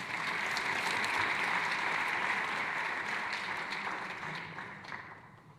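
An audience at a seniors' panel event applauds as a speaker is welcomed to the stage, steady, dense clapping from a sizeable crowd that tapers off toward the end.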